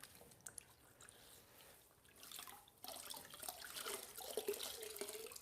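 A grout sponge is rinsed and wrung out in a bucket of water while grouting a bathroom floor, with quiet close sloshing and dripping that grows busier and more splashy.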